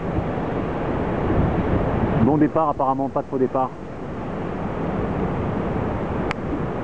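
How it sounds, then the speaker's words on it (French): Steady wind buffeting a microphone outdoors at a windsurfing slalom final at Almanarre, with waves or surf underneath, while someone speaks briefly in the middle. "Le vent est remonté un petit peu"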